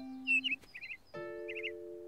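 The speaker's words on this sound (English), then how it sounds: "That sounds like a bird." A chirpy cartoon bird calls in an animated countryside scene, giving two short bursts of bright trilling chirps over steady, sustained musical tones, with no one talking.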